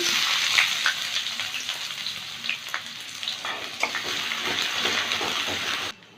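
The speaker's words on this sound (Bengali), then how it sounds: "একটা পেঁয়াজ কুচি দিচ্ছি" Chopped onion is fried in oil with dried red chillies and white cumin, a close, busy sizzle with frequent stirring scrapes that stops abruptly at the end, with no one talking.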